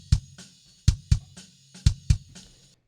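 Sampled and live metal kick drums are layered together, giving tight double hits of deep, punchy thumps with a sharp click on top, repeating in a steady pattern, close and isolated.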